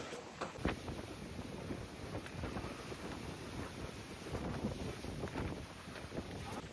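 Strong, steady wind buffets the microphone on the hilltop of Rajmachi fort during the monsoon, a constant loud rumbling roar with gusty surges and no talk.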